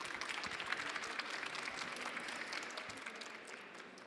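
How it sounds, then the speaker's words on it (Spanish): Audience at a talk on evidence-based perioperative nursing breaks into sustained applause, dense clapping throughout that eases off slightly toward the end. "Un aplauso."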